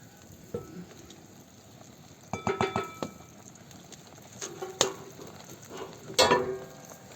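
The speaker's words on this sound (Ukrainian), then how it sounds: "Паралельно тут на сковорідці ми будемо смажити шкварки." Crackling, popping sizzle of pork cracklings frying in a pan over a campfire, with sharp spattering bursts and occasional stirring scrapes, close up and without talk.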